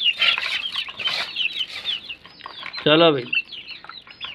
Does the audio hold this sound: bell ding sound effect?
no